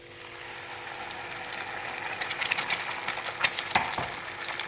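Ground masala paste hits hot oil with already-frying spices for a paneer curry, the sizzle building up from a soft start into a busier crackle with sharp spits and pops, close by and fairly quiet.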